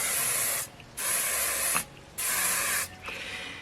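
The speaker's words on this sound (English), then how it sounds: "And you spray it with hairspray while it's wet." Hairspray from an aerosol can sprayed in three long hissing bursts with short pauses between, close and fairly loud, no voices.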